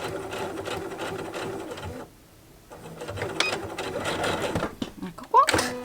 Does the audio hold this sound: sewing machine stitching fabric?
yes